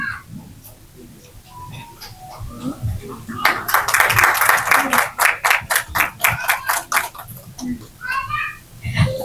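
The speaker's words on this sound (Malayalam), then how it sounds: "ഒരു വലിയ കൈയടി നമുക്ക് കൊടുക്കാം നമ്മുടെ അഭിരാമിക്ക്" An audience at a trailer launch event for the re-release of Summer in Bethlehem breaks into loud, sustained clapping after a voice speaks, then the applause fades back under talk.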